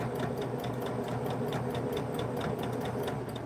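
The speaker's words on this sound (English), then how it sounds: "I'm just going to sew this around" A sewing machine stitches sashing fabric around the top edge of a homemade clothespin bag, running steadily and closely with a fast rhythmic whir and regular needle clicks, alone.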